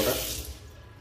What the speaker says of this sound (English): a double-sided sink with a very good pressure of water